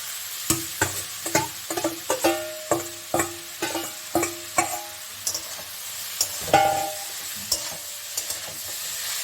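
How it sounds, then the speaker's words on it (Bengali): Cabbage and pre-fried potatoes with turmeric fry in a pan under a low sizzle, punctuated by a steady series of sharp spatula knocks and scrapes against the metal, close and unaccompanied by speech. "এইভাবে তোমরা বাঁধাকপিটা ভাজবে"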